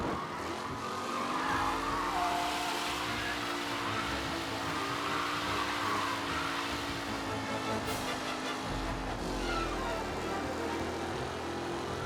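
Race cars roaring around a track in Mafia: Definitive Edition, a continuous dense engine drone with shifting pitch and some tire noise, loud and sustained throughout with no talk.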